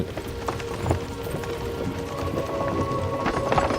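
Horse hooves clopping in a steady running rhythm as a rider travels on horseback in Kingdom Come: Deliverance II, close and continuous over a soft outdoor background.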